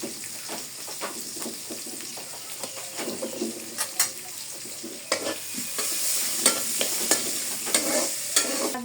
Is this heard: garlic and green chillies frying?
yes